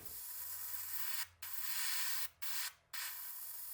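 A Gaahleri Mobius SP syphon-feed airbrush sprays slightly thick primer in a steady, close hiss, broken by three brief pauses as the trigger is released.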